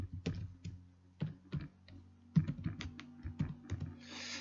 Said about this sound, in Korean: 제가 적어 드릴게요. 여기 키보드 있네.